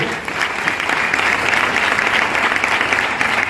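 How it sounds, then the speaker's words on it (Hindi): Loud, dense applause from a seminar audience at a direct-selling success event, many hands clapping in a continuous, even roar that fills the space without a break. "जोरदार तालियां अपने लिए हो जाए"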